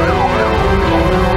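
A wailing siren from a fire engine responding to a burning semi-permanent house in Pangkalpinang, loud and close, its pitch sweeping up and down continuously.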